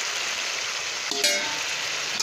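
Spices frying and being stirred in oil in a pan, a steady close sizzle with a brief scrape of the spoon partway through.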